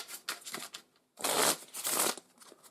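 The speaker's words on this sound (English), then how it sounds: "These are the cell component cards. We're going to give those a shuffle." Cell component cards from the board game Cellulose being shuffled by hand, two bursts of riffling separated by a brief pause, close and crisp with no talking.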